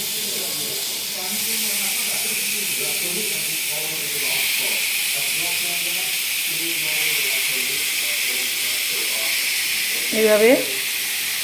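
Chicken kebabs frying in hot oil give a steady close hiss and sizzle through the whole stretch, with someone talking over it and a brief louder clatter near the end.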